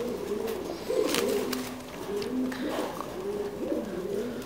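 Thai Titan meat pigeons coo at a pigeon farm in Đắk Lắk, Vietnam, several birds giving low, repeated rolling coos close by over a soft background hum, with occasional faint wing or movement noises.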